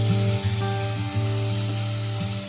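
Bitter gourd (kakarakaya) slices frying in a pan with steady, close sizzling, joined by a few tonal hums, throughout and with no talk.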